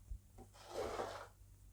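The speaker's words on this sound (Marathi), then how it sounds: "साईडच्या पट्ट्या आपण काढून टाकूयात" Rasping, scraping cuts through rolled shankarpali dough as the side strips are trimmed away for the Diwali sweet snack, a soft close scrape swelling in the middle then fading, with no talk.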